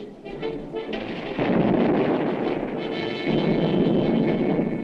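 Bomb blasts in a 1950 war film soundtrack, a loud continuous rumbling barrage of deep booming explosions that swells and rolls on without pause.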